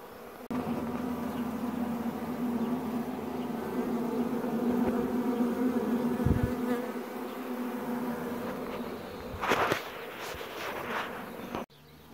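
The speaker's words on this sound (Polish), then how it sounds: "Pojedyncze pszczoły zostały." A steady hum of bees buzzing around a hive set inside a wall, fairly close and continuous, with a few brief knocks and shuffles near the end.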